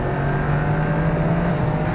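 Toyota GR Yaris turbocharged three-cylinder engine revving hard, a loud steady drone with a strong low hum holding throughout, close by and without talk.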